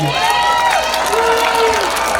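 A large crowd at a school homecoming field celebration applauds and cheers loudly and steadily, with shouts and whoops rising above the continuous roar.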